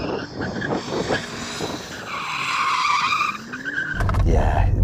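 Tyres on a BMW M8, M5 CS or M5 Competition squeal in a sustained high screech as they are warmed up before a drag race, under an engine roar that swells toward the end, with faint voices nearby.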